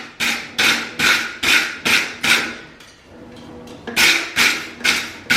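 A hammer rings on hot metal while S-hooks for a chicken coop are forged, sharp regular blows struck close in a quick series, a brief pause, then several more.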